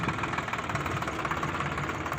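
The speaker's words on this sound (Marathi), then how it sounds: "आहे ट्रॅक्टर पेरणी यंत्र पेरणी यंत्र" A tractor engine pulls a seed drill at sowing time, giving a close, steady rumbling drone with a faint knocking pulse and no break.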